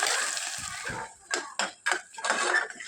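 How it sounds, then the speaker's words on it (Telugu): Carrot mixture being stirred into a tempering in a pan for street-style idli sambar, wet sizzling at first, then several close, distinct scraping clinks of a spoon against the pan. "ఆ క్యారెట్ మిశ్రమాన్ని తాలింపులో వేసుకొని బాగా కలుపుకోవాలి"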